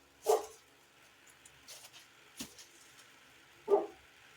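A dog barks twice from a distance outdoors, separated by a few seconds, with faint knocks and rustling in between, while anise hyssop is dried nearby.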